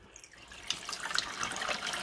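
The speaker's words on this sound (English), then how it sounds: "So it's a tap running." A household tap turned on and running into a sink, a steady broadband splash and trickle that starts softly and builds within a second, heard close with no talking.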